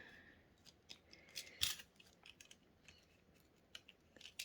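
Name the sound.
scissors cutting junk mail paper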